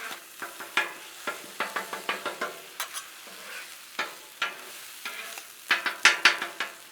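Chorizo fries on a Blackstone griddle while a spatula repeatedly scrapes and taps the steel, giving irregular clattering strikes over a steady low sizzle, close by and without speech.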